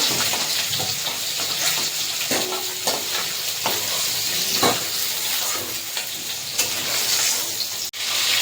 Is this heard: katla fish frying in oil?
yes